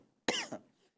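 A single sharp cough, close and fairly loud, with a short harsh follow-up, set against near silence.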